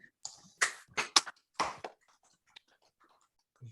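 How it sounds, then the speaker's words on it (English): Participants on a video call unmuting to clap together, producing a short burst of scattered, slightly uneven hand claps of mixed loudness that trails off into quiet with a stray click. "Let's all unmute and let's give Simone a clap."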